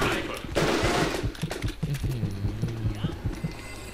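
A tank firing in a video game, heard as a rapid volley of sharp, loud gunfire bursts mixed with rumbling, under excited shouting from a player.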